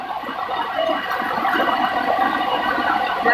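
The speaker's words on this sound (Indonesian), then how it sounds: "Nah ini kayaknya tambah deras, arusnya tambah deras." Strong flood water rushes continuously in Lombok, a dense, loud, steady churning roar of fast current with no break throughout.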